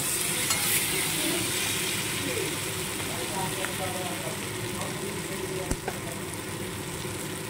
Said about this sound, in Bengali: আলুটা প্রায় আমার ভাজা হয়ে এসেছে চিংড়ি মাছ আর পেঁয়াজের সঙ্গে